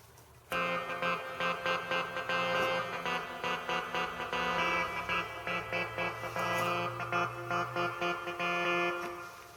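A Yamaha PSR keyboard sounds a dense, heavily processed layered patch, pulsing in a steady rhythm with a sustained buzzing, distorted timbre and faint background noise throughout.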